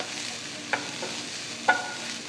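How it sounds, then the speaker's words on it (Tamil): Steady sizzling of chopped vegetables, including beans, sautéing in a pan for a mini samosa filling, with a couple of sharp scrapes from a spoon stirring, close and continuous. "இதெல்லாம் சேர்த்து 5 நிமிஷம் வதக்குங்க."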